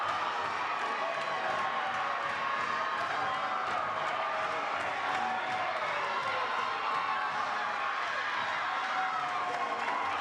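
A college softball crowd at Love's Field reacting to a two-run home run in Mississippi State vs Oklahoma, steady dense cheering and clapping filling the whole stretch with no break.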